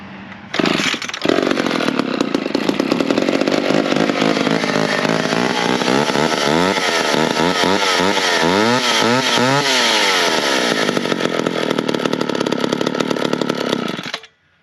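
McCulloch 10-10 automatic chainsaw fires up and runs loud and close, revving up and down repeatedly before cutting off abruptly at the end.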